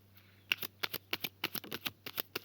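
Tarot cards shuffled and drawn by hand, a quick run of about a dozen crisp papery snaps and flicks in an uneven rhythm, close and fairly quiet, with no talking.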